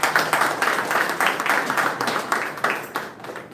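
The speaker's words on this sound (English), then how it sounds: "Give them a big round of applause." Clapping from the audience at a Toastmasters club meeting, a sparse room of hands applauding the panelists in uneven bursts that fade toward the end.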